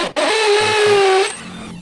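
A power drill bores into a hard concrete floor to set anchors for a remote-controlled gate, giving one loud, steady whining burst of about a second that cuts off abruptly.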